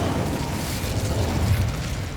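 Incendio fire spell cast in the video game Hogwarts Legacy, a dense roaring burst of flame that swells and rumbles steadily for a couple of seconds with no talk over it.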